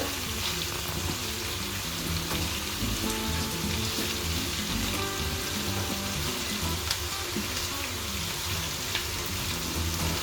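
Spicy gambas al ajillo, garlic shrimp, sizzling in a pan: a loud, steady, dense frying crackle that runs unbroken throughout with no voices.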